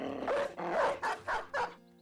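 A small dog barks in the video game Battle Brothers, four distinct close yaps in a quick, slightly uneven rhythm, standing alone with almost no other sound.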